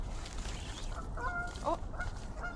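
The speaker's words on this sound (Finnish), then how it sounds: "Kuuletteko linnun äänen?" Goose-like birds honk a few times outdoors in nature, short calls at moderate distance over a soft background hiss, with no one speaking.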